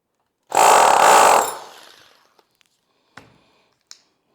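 A power drill bores through a wooden half-wall in a short burst of about a second of loud whirring, which fades away and is followed by a few faint clicks and knocks.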